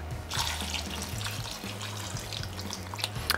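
Tap water runs steadily into a pot of meat for Vietnamese Bo Kho stew, a close splashing pour over a low hum, with no one speaking.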